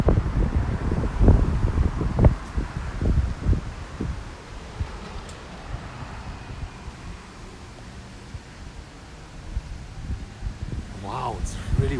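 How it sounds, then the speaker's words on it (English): Wind gusts buffet the microphone outdoors in Tokyo, Japan, with heavy low rumbling bursts early on that settle into a steady blustery roar. "it's really windy"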